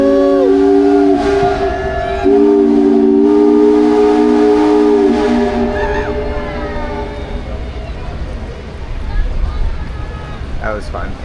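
Steam whistle of the Minne-Ha-Ha steamboat on Lake George, New York, blowing loud, multi-toned blasts for about five seconds, then fading into ambient noise and low rumble.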